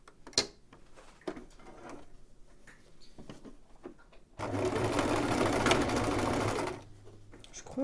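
A sewing machine stitches fabric pieces end to end in a fast, steady whirring run of about two seconds, preceded by quiet handling clicks and rustles.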